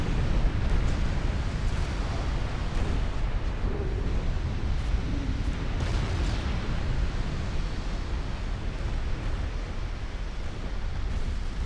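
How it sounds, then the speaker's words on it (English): A warship blows up under fire in a naval combat video game, an old American cruiser taking heavy damage. A dense, continuous roar of explosion and rumbling blast noise fills the whole stretch, loud and steady with no talking. "Oh, Saratoga exploding."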